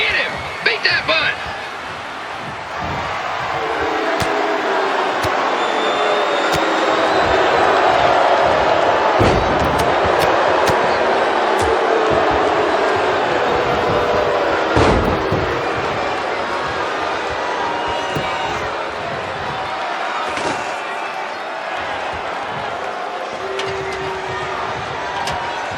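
A home arena crowd in the wrestling game WWE 2K20 roars and cheers steadily through the match, swelling and holding loud for most of the stretch. Sharp impact thuds and slams land over it, and voices talk throughout.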